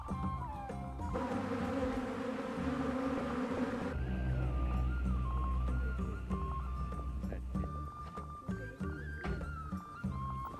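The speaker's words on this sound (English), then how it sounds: "We tried to keep both the Himalayan honeybees, Apis cerana, and the European species, Apis mellifera." Himalayan honeybees (Apis cerana) and European honeybees (Apis mellifera) kept in an apple-growing valley, buzzing steadily and close by with shifting drone pitches, joined by a few low thumps.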